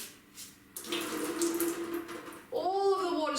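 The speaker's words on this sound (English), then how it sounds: "all of the water's going to run out." Water streams out as a wet towel is wrung by hand, a steady splashing trickle that starts abruptly and continues close to the microphone with some bubbly gurgling at the end.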